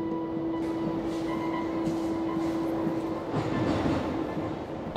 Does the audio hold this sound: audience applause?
no